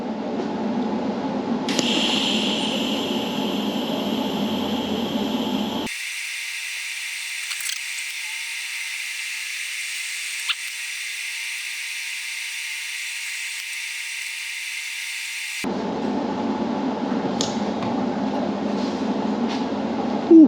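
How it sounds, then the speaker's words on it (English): TIG welding on a 1993 Jeep Wrangler YJ: a steady high electric hiss holds for about ten seconds between stretches of a low background hum, with faint clicks at the start and end. "Now let's get back to TIG welding."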